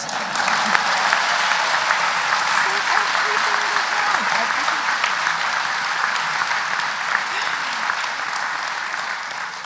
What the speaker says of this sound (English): Always gets a round of applause